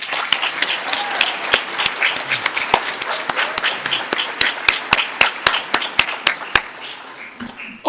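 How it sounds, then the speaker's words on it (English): Banquet guests at a chamber of commerce dinner applaud their president: a dense, sustained round of clapping with sharp individual claps standing out near the end as it thins and fades. "So please join me in a round of applause to our President"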